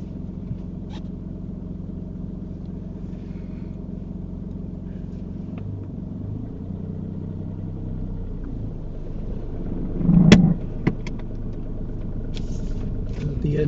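A car pulling away on a UK driving test, its engine a low steady rumble from inside the cabin that rises briefly as it accelerates, with a few faint clicks and knocks.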